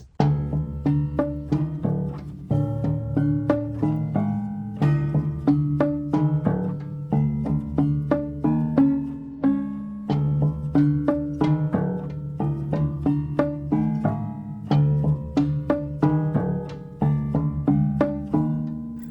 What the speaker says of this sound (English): that's basically the essence of the prepared piano in this cue